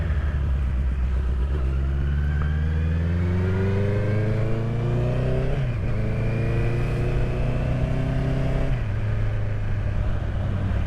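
A 2021 Honda CB650R motorcycle engine revving up close, a loud continuous roar climbing steadily in pitch, dropping briefly and climbing again, with no talking.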